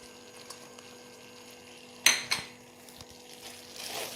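Almonds drop into a pot of thick kulfi milk mixture with a couple of sharp metallic clinks and a spoon scrape, over a steady low kitchen hum, followed by faint stirring.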